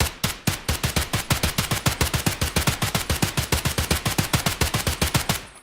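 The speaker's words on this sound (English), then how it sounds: "So this is the HK with the 850 RPM single fire." An HK rifle in Escape from Tarkov fires a long, fast, evenly spaced string of sharp shots, about thirty in a few seconds, loud and close with no voices.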